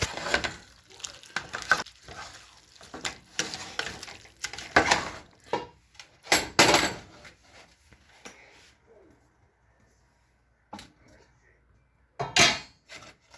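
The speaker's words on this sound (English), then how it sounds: "you're going to want to go ahead and stir it all up" Cabbage being stirred in a cooking pot with a utensil: intermittent scraping and clattering of metal against the pot in irregular bursts, some sharp knocks, with quiet gaps between.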